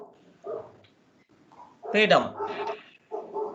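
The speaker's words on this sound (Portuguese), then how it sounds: "o cachorro está latindo" A dog barks and yips in short bursts inside a home, under and between a woman's speech, moderately close.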